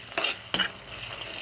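Onions, ginger garlic paste and green chillies fry in a pan for tasty chole under a constant sizzle. Two quick stirring scrapes cut through near the start.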